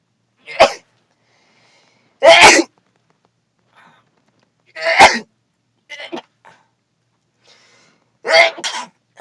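Several loud, abrupt sneezes separated by silence inside a BMW X7, with a few smaller sputtering sounds in between.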